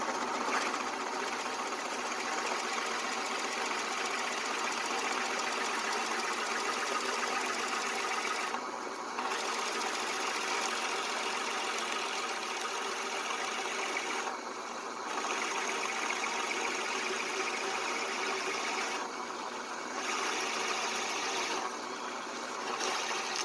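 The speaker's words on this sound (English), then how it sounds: "I can set this 12-speed drill press at 500 RPM, which a bit this big in white pine, that's the best speed" A 12-speed drill press set to 500 RPM bores holes in white pine blocks, its motor humming steadily and loudly throughout with brief dips as each cut finishes.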